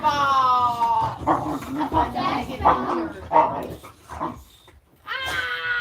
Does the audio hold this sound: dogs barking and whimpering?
yes